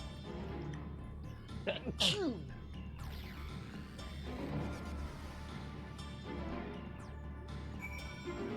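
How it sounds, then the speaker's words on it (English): A single sudden sneeze from a person on a live stream, sharp and close, bursting out around the two-second mark amid quiet background murmur and faint voices. "I apologize for sneezing in your ear"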